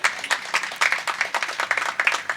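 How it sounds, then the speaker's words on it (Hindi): Audience applause at an IGNCA poetry gathering, a burst of many hands clapping at close range with a steady, dense rhythm and no talk over it. "आप ताली बजा सकते हैं"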